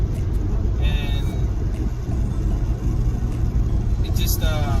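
A 2002 Acura RSX Type S DC5 with a VTEC engine drives steadily, its low engine drone and road rumble holding at the same level throughout, with a brief higher whine near the end.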